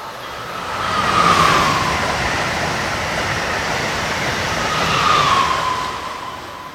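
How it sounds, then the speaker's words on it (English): Northbound Amtrak Regional passenger train slowing for a station stop at BWI Airport on the Northeast Corridor, a loud steady rolling roar with two rising-and-falling brake squeals. "Then up came a northbound Amtrak Regional, slowing for a station stop."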